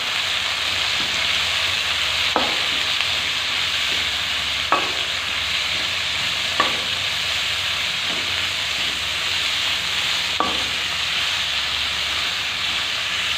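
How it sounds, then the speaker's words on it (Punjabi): Onions frying in a pan for spicy paneer bhurji after cumin has browned, giving a steady close hiss and sizzle with a few faint clicks of stirring at intervals. "ਹੁਣ ਪਿਆਜ਼ ਜਿਹੜਾ ਵਾ ਉਹਨੂੰ ਆਪਾਂ ਭੁੰਨਾਂਗੇ"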